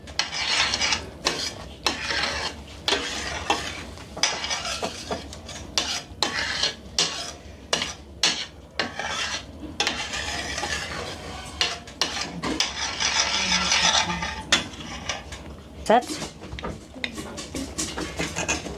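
A spoon scrapes and stirs melting fat in a metal pot while making kurut, a steady run of close, rough rasping strokes with occasional clinks against the pot and only faint background voice.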